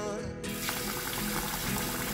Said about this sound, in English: next I'll be washing my rice.